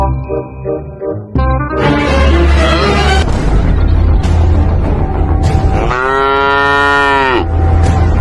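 Cattle mooing loudly and close, several long drawn-out lowing calls following one another, with one especially strong, rising moo late on, set against farmyard background noise.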